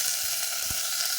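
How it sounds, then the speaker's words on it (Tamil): Mustard seeds, urad dal and curry leaves sizzle in hot oil as a tempering for a brinjal side dish, a steady close, even frying hiss with a couple of faint low pops and no voices. "கடுகு நல்லா வெடிக்க ஆரம்பிச்சு இப்போ கருவேப்பிலை போட்டுடலாங்க."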